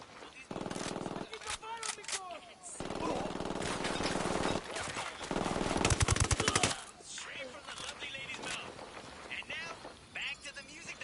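Automatic gunfire bursts in the video game Ghost Recon Wildlands, loud rapid volleys and single shots across the clip, with game characters speaking between and under the shooting.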